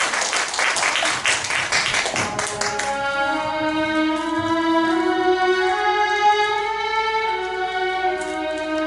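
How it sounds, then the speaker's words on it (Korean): Warm audience applause greeting a reciter at a poetry recitation evening, a dense burst of clapping for about two and a half seconds that gives way to soft sustained instrumental music. "여러분 뜨거운 환영의 박수 보내주시기 바랍니다."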